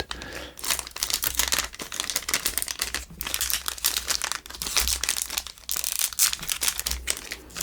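Pokémon card booster packs being torn open and handled, a dense stream of close, crisp crinkling and rustling foil wrappers with sharp tearing bursts, continuous and fairly loud with no talking.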